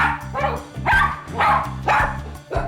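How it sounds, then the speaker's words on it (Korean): A dog barks loudly and repeatedly, five or so harsh barks in a steady rhythm, close by, over a faint low hum. "진짜 크게 짖을 때 한 102 정도 나와요"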